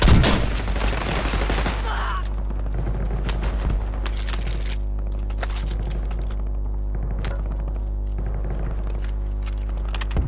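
Shooter video game gunfire: dense, loud bursts of automatic fire and repeated shots run continuously over a steady electronic hum, with no pauses.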